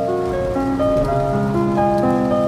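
Steady rain patters across surfaces in the video game A Bird Story, a continuous wash under a gentle layered music score with held tones, no voices.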